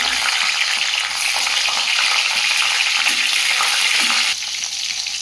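Steady, loud sizzling of nigella seeds and slit green chillies dropped into hot oil in a wok, a continuous crackling hiss with no voices.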